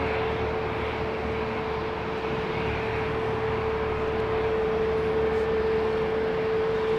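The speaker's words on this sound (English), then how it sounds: "Lovely Boeing 767-400." A Boeing 767-400 jet runs its engines at Heathrow Airport, a steady broad roar with a sustained whining tone, held at constant loudness from a middle distance.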